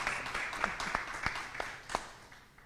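Audience applause for a speaker at a talk on the legal capacity of people with disabilities: a steady wash of clapping with sharper individual claps standing out, fairly faint and fading toward the end.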